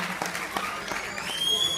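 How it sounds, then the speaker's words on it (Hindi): Audience applause at a celebration of the 135th Jayanti of B.R. Ambedkar, a steady wash of clapping throughout the short clip with a faint tonal whistle near the end. "और जोरदार तालियां बजा दीजिए"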